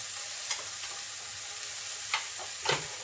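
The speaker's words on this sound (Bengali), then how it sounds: "এই যে ডালটা আমি বেটে রেখেছিলাম মিক্সিতে পেস্ট করে, ওই ডালটা আমি দিয়ে দিচ্ছি" Ground lentil paste goes into cauliflower frying in a pan, with a soft steady sizzle and a few brief scrapes of a spoon stirring it in.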